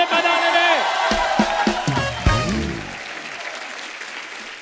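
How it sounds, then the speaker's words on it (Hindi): A comedy talk show studio audience breaks into applause and cheering, with voices shouting over the clapping before it fades toward the end. "देखा जोरदार तालियां"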